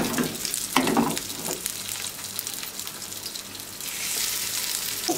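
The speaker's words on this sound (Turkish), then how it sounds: "Diğer balığı da kızartıyorum" Fish sizzles and crackles in a hot pan, a steady frying hiss with a few clinks of a utensil and a surge of bubbling near the end.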